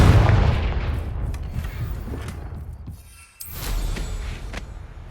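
Confringo blasting spell in the Hogwarts Legacy video game: a loud, booming explosive burst at the start with rumbling low-end impact, decaying into crackling debris and a second swelling rumble.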